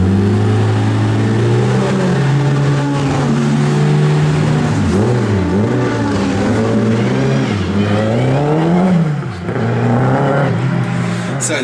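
A MINI Challenge race car engine revs hard and loud at close range, rising and falling through several throttle blips over a steady idle, with no talk.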